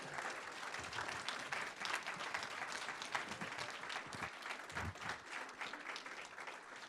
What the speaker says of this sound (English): So let's give a big round of applause for that.